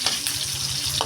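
Bitter gourd and onion sizzle in a pan while being stirred, a brief, close, steady frying hiss with a soft fluttering rhythm underneath.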